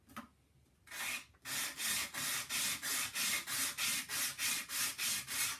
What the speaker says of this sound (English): the trick to hand sanding is going one way with the sandpaper and then the other